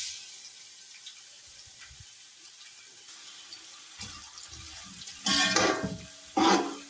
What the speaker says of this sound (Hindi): ऑयल डालने के बाद अब हम इसमें स्लाइस की हुई दरमियानी साइज की 4 प्याज